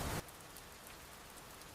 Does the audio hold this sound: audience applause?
no